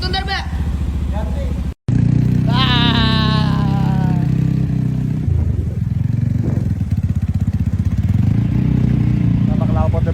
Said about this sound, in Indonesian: Kenapa knalpotnya berisik?